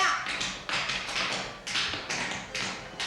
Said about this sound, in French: il faut qu'elle comprenne et qu'elle entende que vous faites des claquettes